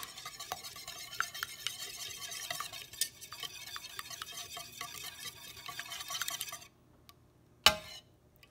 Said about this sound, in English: we're just going to whisk this egg with our honey and coconut oil